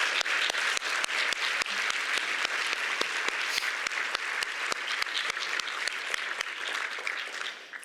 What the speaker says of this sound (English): would you stand up and let us give you a round of applause?